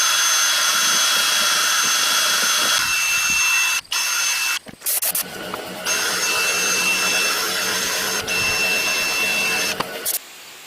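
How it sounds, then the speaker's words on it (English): A wire wheel spinning on a drill scrubs between bolts on a 5.3 V8 engine from a Firebird project, a loud continuous whir and grind broken by a few brief pauses and restarts. "So I've taken the wire wheel here on the drill"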